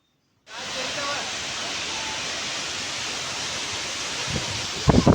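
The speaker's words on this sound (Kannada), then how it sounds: "ಎಷ್ಟು ಚೆನ್ನಾಗಿ ಬೀಳ್ತಾ ಇದೆ ನೋಡಿ ನೀರು." Amboli waterfall in Maharashtra during the monsoon, water crashing down in a loud, steady roar that starts abruptly and holds constant, with a few thumps near the end.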